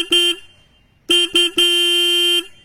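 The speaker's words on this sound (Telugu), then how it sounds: "హార్న్ యొక్క లౌడ్నెస్ అనేది ఒకసారి చెక్ చేద్దాం." A Royal Enfield Hunter 350 motorcycle horn sounds loud and close: one short toot, a pause, two quick blasts, then a longer held honk of nearly a second.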